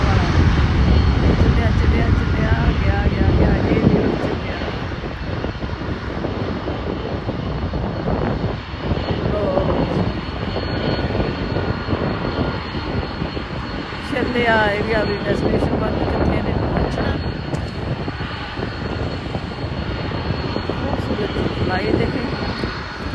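Aircraft engines roar steadily at the Toronto Air Show during a night visit, with a FedEx plane waiting nearby, a continuous loud drone filling the scene while a person talks over it throughout.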